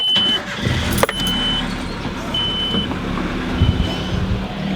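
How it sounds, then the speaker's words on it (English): Pickup truck engine idling with a loud exhaust leak: a steady, close, rumbling drone with a sharp knock near the start and faint tonal whines above it, no speech. "the thing I'm going to try and do now is fix the exhaust leak."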